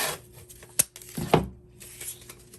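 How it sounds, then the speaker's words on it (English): Painter's tape peels off the roll with a couple of sharp tearing rips, then is pressed down with soft rubbing, close and alone during a Cricut Maker glass-fiber cutting setup. "I'm just going to tape my edges down"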